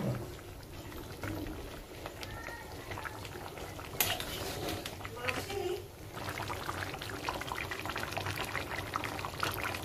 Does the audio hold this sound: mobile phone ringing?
no